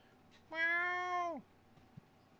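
A single drawn-out cat meow, loud and close, with a clear harmonic tone lasting almost a second before it drops off, alone against a faint background hum.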